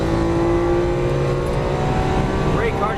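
Lamborghini Aventador on a Las Vegas racetrack, engine holding a steady buzzing drone that climbs in pitch near the end as throttle is added, with a voice talking over it.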